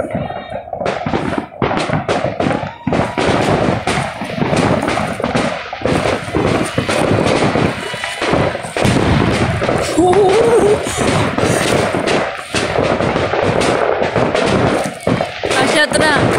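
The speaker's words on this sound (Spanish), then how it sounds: "Eso es una bomba." Firecrackers and fireworks burst over and over during New Year celebrations in Uruguay, with sharp loud bangs and crackling volleys going on throughout, some near and some farther off, while people talk now and then in the background.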